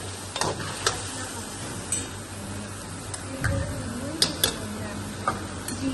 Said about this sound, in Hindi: अब इसको चिकन को डाल के हम भूनेंगे।